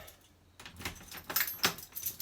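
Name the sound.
door key jangling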